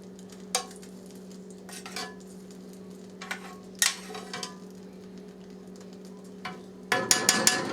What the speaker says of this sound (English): You want to stir it to get the right consistency.